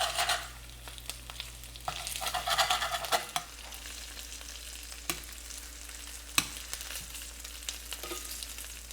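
Walleye fillets fry until crispy, a steady sizzle broken by sharp pops and crackles at irregular intervals, close and fairly quiet.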